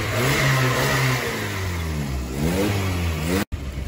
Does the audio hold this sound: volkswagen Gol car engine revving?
yes